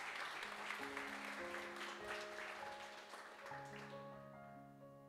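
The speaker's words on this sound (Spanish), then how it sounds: "Denle ese aplauso al Señor esta mañana." Church congregation applauding during a Spanish-language worship service, steady dense clapping mixed with sustained music chords and some voices throughout.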